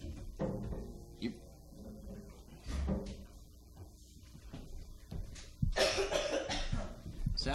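A person coughs a few times at close range in a room, with short bursts separated by quieter gaps, followed by a rougher, louder stretch and some faint background movement.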